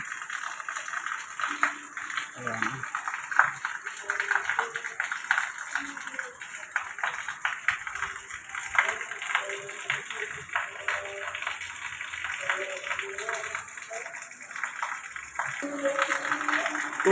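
Heavy afternoon rain pours down steadily in Silang, a constant dense hiss with water splashing and dripping, and faint voice-like sounds drift underneath.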